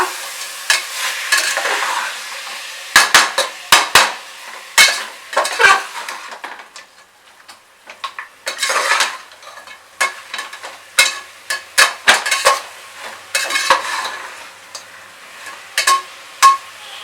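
A spoon stirs chicken biryani after chopped coriander and mint leaves go in, giving irregular metallic scrapes and clinks against the pot over a soft sizzle, close and fairly loud.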